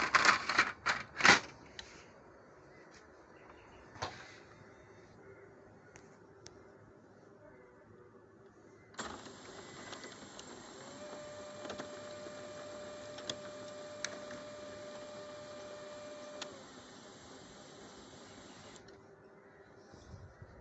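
An HP Color LaserJet MFP179 printer on a test run after a Tray 1 paper jam repair: a few sharp clicks and clunks, then a steady mechanical whir with a sustained tone as paper feeds, ticking intermittently before stopping.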